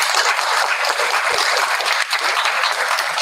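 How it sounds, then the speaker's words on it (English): An audience applauds loudly after a panel on building resilient, equitable communities, a close, dense clatter of many hands clapping steadily for a few seconds. "Give a big applause."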